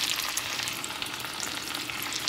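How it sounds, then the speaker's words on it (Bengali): A dense, loud, continuous sizzle of many pieces shallow-frying together in a little oil, a steady crackling hiss close up, with no voices. "একসঙ্গে অনেকগুলোই ভেজে নিচ্ছি আমি, একদম অল্প তেলেই আমি এইটা ভাজা করছি।"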